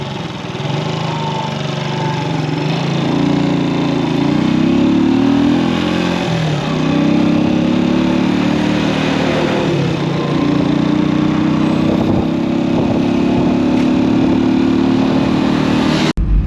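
Passenger ride on a commercial motorcycle taxi, an Okada, heading toward Nteje town in Anambra State, Nigeria: a loud, continuous engine drone that rises and falls slightly with the throttle, close and steady throughout.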